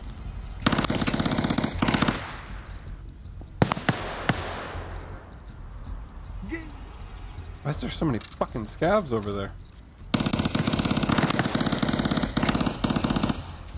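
Gunfire in the video game Escape from Tarkov: loud bursts of automatic fire and single shots crack out in several clusters, with someone talking between and over them.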